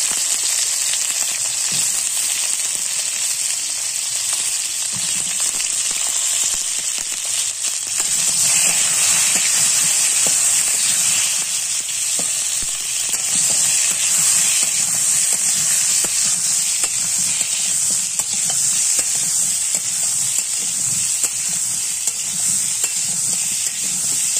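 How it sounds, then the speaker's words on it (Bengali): Chopped pointed gourd frying in salted oil for potato and pointed gourd curry, a loud, unbroken hiss of sizzling oil close up, with faint stirring knocks now and then under the steady roar. "পটলগুলোকে আমি ভালোভাবে ভেজে নেব, লাল লাল করে ভেজে নেব।"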